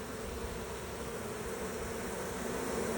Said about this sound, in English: There's already a lot less bees coming back to that box.